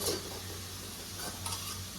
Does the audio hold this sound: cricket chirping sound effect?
no